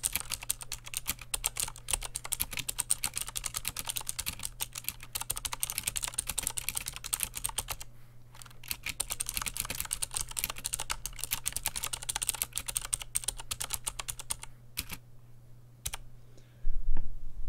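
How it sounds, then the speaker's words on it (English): Rapid, steady typing on a computer keyboard resting on a Cherry desk mat, a dense stream of close clicks with short pauses, moderately quiet, with no voices. "let's see if it makes any difference in sound"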